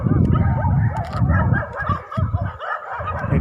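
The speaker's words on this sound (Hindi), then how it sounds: "ये सारे कुत्ते मुझे देख के भौंक रहे" Several village dogs bark and yip in a dense overlapping chorus at night, loud and close, with some whimpering barks mixed in and a brief lull near the end.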